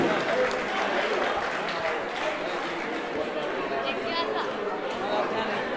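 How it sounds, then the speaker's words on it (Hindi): Applause rises from a crowd gathered at a Jain religious discourse, moderate and steady clapping mixed with murmured chatter, heard a little distant beneath a voice. "जोरदार तालियां बजाएं"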